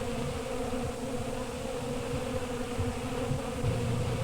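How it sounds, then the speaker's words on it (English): Honey bees fan nectar with their wings inside the hive, giving a steady, continuous buzzing drone that holds at an even level throughout with no voices. "They fan it with their wings and they fan the nectar mixed with the"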